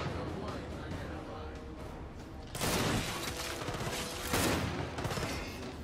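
Boltok pistol shots in Gears 5, heavy booming reports amid constant game combat noise, a loud burst midway and another near the end, with voices heard over the action.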